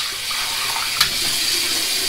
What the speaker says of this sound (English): Put hot water in it and put my soap or my lather in it.